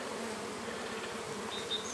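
Honeybees at a hive near orchards hum in a dense, continuous buzz from many insects, steady and close, with a brief higher whine near the end and no talk.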